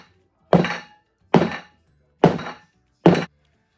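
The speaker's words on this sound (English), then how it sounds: "and bang it to get the air bubbles out." A Bundt cake pan filled with cake-mix batter is banged on a kitchen counter four times at an even pace, each a close, solid thunk with a short decay.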